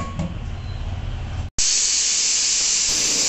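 A pressure cooker full of braised goat meat cooks with a low rumbling simmer, then after a brief gap lets out a sudden, loud, sustained hissing whistle of steam.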